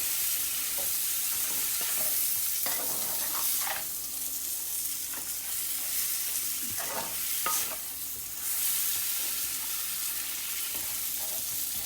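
Boiled amla (Indian gooseberry) pickle cooking in a pan, with a steady sizzle and repeated scraping stirs of a spatula, close and continuous throughout with no talking.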